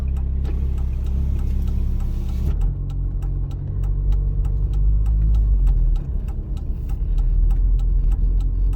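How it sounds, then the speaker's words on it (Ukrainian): A car engages first gear and pulls away during a driving test route, the engine's low rumble shifting as it moves off, with a steady ticking indicator clicking throughout. "Вмикаємо першу швидкість і починаємо рух."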